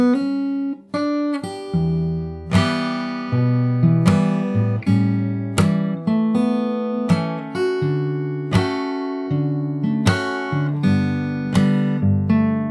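Solo fingerstyle guitar plays the second verse of a jazz standard, a steady flow of plucked bass notes and ringing chords with occasional sharp percussive attacks, close and clean with no talking.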